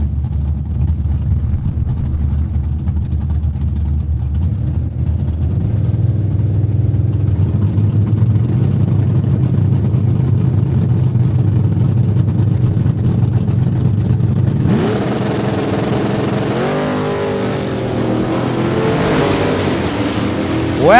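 Drag racing cars, including a Camaro, at a Super Pro points race at Saskatchewan International Raceway: loud close engine rumble building and holding, then a sharp burst of higher revving as the launch roars off.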